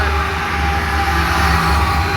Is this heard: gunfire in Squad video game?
no